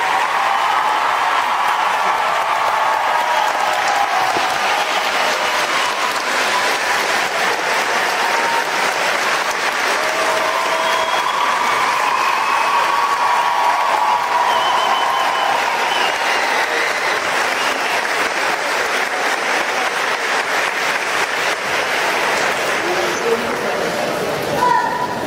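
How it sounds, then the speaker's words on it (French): Thunderous audience applause at a live stage show, a dense, sustained roar of clapping that carries on loudly and evenly for the whole stretch, with faint crowd noise mixed in. "c'est un tonnerre d'applaudissements à Alexandre Bastier"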